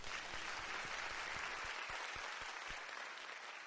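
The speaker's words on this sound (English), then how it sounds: "Let us offer a big round of applause in gratitude" Sustained audience applause at a church workshop opening, a dense wash of many hands clapping at moderate distance, steady throughout and easing slightly near the end.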